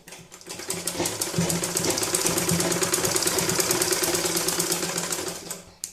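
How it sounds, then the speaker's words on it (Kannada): A sewing machine runs a lock stitch on a rabbit-eared hat, loud and close, with a rapid, even mechanical chatter that holds steady for several seconds before slowing to a stop. "ಇದು ಲಾಕ್ ಸ್ಟಿಚನ್ನು ಹಾಕಿ"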